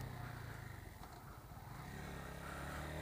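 A Suzuki TU250X single-cylinder motorcycle engine drones and revs steadily as the bike accelerates, a continuous low throbbing close by with no talking.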